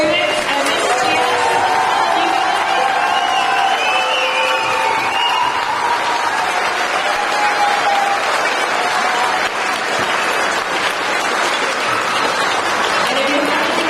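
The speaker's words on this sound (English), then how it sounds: "I think we can do one more really big round of applause for all of our students and Mrs. Jan." Audience at a school spring band concert applauds the students, a sustained loud round of clapping and some cheering from a full room, steady from start to finish.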